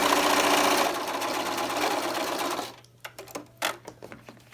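A sewing machine stitches a quarter-inch hem on a cloth face mask. It starts with a loud, steady whirring run, then settles into short separate bursts of stitching with pauses between them.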